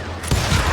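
Gunfire in the Western shooter Call of Juarez: Gunslinger bursts in suddenly after a quieter moment, a loud close volley of shots that keeps going.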